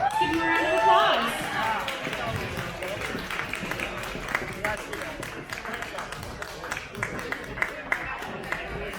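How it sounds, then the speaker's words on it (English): Audience applause and clapping for pin-up contestants at a Mississippi car show, a steady crowd roar with scattered sharp claps lasting throughout, with voices mixed in. "Give them a round of applause."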